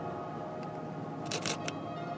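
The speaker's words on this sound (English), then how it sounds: "Just the shutter going" A single-lens reflex camera shutter fires outdoors during full moonrise photography in Denmark, a quick cluster of sharp mechanical clicks near the middle, close and crisp over quiet background hiss.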